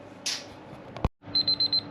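A meat thermometer timer in a kitchen beeps five times in a steady, even rhythm, bright and close, after a brief clatter and a short pause.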